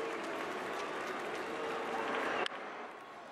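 The sustained, far-off roar of a baseball stadium crowd doing the 'Moose' call at a Yankees–Blue Jays game, then a sharp cut partway through to a slightly quieter crowd bed.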